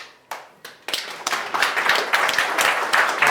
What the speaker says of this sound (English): It's too early to clap.